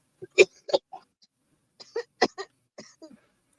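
Several short, sharp coughs in quick bursts, two clusters separated by a brief pause, fairly close.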